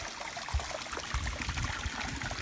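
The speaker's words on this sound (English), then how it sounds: "the water, instead of going into a pond with fish or whatever, it just pulls down to the end there and then seemingly just disappears into the rock" Water from a remote-controlled pondless waterfall trickles and splashes steadily into rock, a close, continuous babbling stream with small irregular gurgles.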